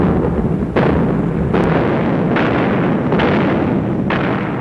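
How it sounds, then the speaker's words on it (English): A massive World War II artillery barrage rumbles as a dense, continuous roar of blasts, with several sharper booms punching through at irregular intervals, loud and close. "After a massive artillery barrage, the T-34s and assault infantry burst through the German positions."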